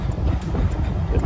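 Ooty-style steam engine train heard as a steady, dense low rumble and rolling mechanical noise, loud and close, with no distinct chuffs or voices over the short stretch.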